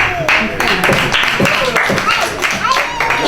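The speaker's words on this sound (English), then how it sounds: "How about a round of applause for Kristen, baby?" Audience clapping during a card-magic performance, sharp individual claps in a loose rhythm, close and loud, mixed with someone speaking over them.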